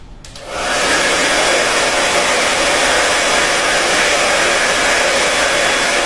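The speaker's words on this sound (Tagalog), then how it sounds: "Unahin na natin to guys, itong common blower natin." A common electric hair blower switches on and runs loud and steady, a continuous broadband whoosh that rises within the first half second and holds without change.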